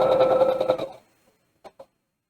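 A sewing machine back stitching a seam runs in a quick, loud rhythmic burst for about a second, then stops, leaving a couple of faint clicks.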